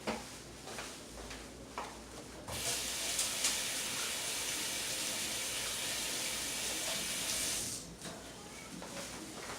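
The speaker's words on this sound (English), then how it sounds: "dirty hands, gotta go wash them." Tap water runs into a sink for about five seconds as paint-covered hands are washed after an acrylic paint pour, a steady broadband hiss bracketed by quieter handling sounds.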